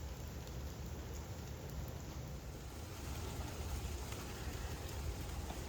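Steady rain falls across an outdoor resort area near a pool and a small stream, a constant broadband hiss with no talking and no distinct drops.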